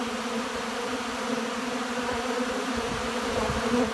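Honey bees in full flight around their nest on a cold early-spring day, producing a dense, steady, continuous buzzing hum close by, with no voices.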